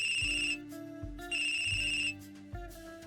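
A phone in the video game Hearts & Hexes rings in repeated bursts, each ringtone phrase cutting on and off in a steady pattern over a low musical backdrop, with no speech.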